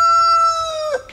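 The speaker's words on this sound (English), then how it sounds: "Sorry for the chickens" A rooster crows once in a Texas garden: a single close, loud cock-a-doodle-doo with a strong harmonic tone that holds, then breaks and trails off at the end.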